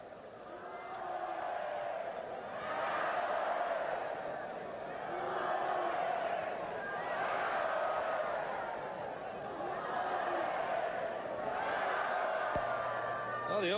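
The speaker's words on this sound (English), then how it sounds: "But it's been a good raucous crowd for the Cowboys so far." Raucous crowd of Cowboys fans at a 1991 college football game, Colorado vs Oklahoma State, heard as a broad, swelling roar that rises and falls in waves, fairly distant, with a commentator talking over it.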